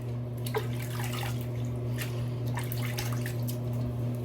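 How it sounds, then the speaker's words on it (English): A razor rinsed under a running tap during a wet shave, with a soft continuous stream of water and light splashes over a low steady hum. "let me rinse really quick"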